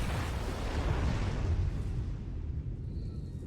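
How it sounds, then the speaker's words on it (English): A large explosion in Tales of Arise rolls out as a deep, loud, sustained rumble that slowly fades and thins over a few seconds, heard alone without speech. "Explosion."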